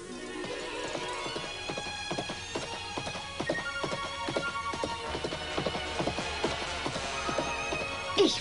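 Horse hooves clip-clop at a riding pace in a German children's cartoon, a busy rhythmic patter of hoofbeats with a whinny, carried over an animated soundtrack without talk.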